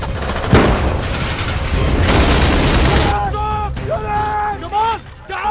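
A grenade explodes: loud booming blasts and crackling bursts fill the first few seconds, then shouting voices take over amid the din, in a war film scene.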